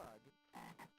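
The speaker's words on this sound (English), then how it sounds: "I see a frog." A frog croaks in a video game, two loud, close, throaty croaks separated by a short gap, with a third shorter croak following; no talking over them.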